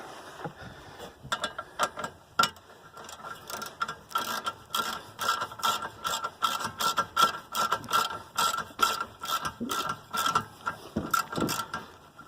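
Close ratchet clicks in quick repeated bursts as rear brake bolts are tightened down on a 1991 Honda Accord, a rhythmic run of pawl strokes with short gaps between pulls, no talking.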